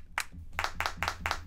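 Clap sample from an Ableton drum rack, triggered several times in quick succession, sharp and dry, with a brief pause after the first hit.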